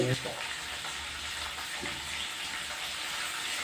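A tempering of spices fries in hot oil for a bael leaf and lemon pickle, making a steady, soft sizzling hiss close by, with a brief clatter at the start.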